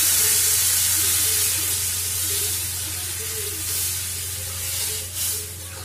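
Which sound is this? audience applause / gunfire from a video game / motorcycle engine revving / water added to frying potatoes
water added to frying potatoes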